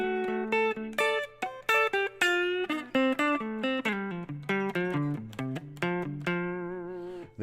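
Electric guitar played through an amp with the bass control turned fully down, a run of distinct plucked notes and chords, each sustaining and decaying before the next, close and clear with a thin, bright tone.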